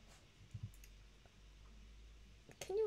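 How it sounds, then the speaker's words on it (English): Computer keyboard keys clicking during a game stream of Life Is Strange, a few scattered soft taps near the start and a quicker cluster toward the end over faint background hum. "Also, I'm sorry for the keyboard noises."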